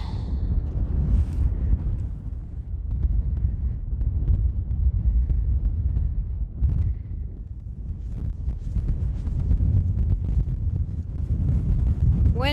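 Mountain wind on the Kungsleden trail near Hemavan roars steadily and close, a dense low rumble of gusts buffeting the microphone for the whole stretch, with faint footsteps or rustling beneath.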